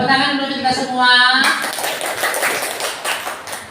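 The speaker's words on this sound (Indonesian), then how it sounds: "tepuk tangan dulu kita semua" A classroom of pupils breaks into dense group applause after a teacher's sung or spoken prompt, the clapping loud and close and fading slightly toward the end.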